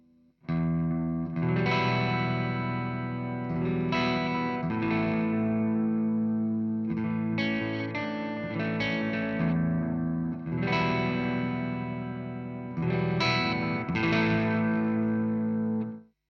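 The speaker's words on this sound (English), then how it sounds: "Bit of delay there." Electric guitar on the neck pickup through an EVH 5150iii 50-watt 6L6 amp with delay, slow sustained melodic phrases with ringing echoes trailing each note, loud and close, then fading to silence at the end.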